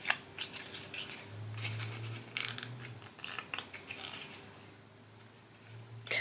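Paper being ripped off the back of a horseshoe crab craft, quiet tearing and rustling crackles in short bursts, close and soft, with brief pauses and a faint low hum underneath.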